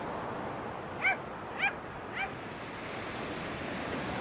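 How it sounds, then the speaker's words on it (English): Ocean waves washing onto South Shields beach make a steady, broad surf roar throughout, while a dog barks three times nearby early on. "What a nice little beach here in South Shields."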